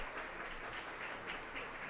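Applause from the audience at a National Philanthropy Day afternoon event rises as a steady, dense wash of many hands clapping at a distance, with no voices over it.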